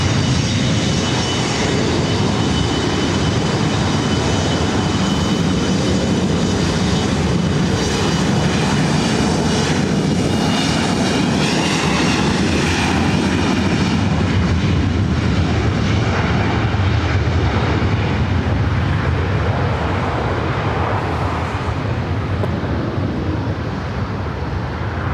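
A United Express Embraer E175 jet roars through its takeoff roll from runway 24 right at LAX, a loud, steady engine rumble with rising whine holding for the full stretch and easing slightly toward the end.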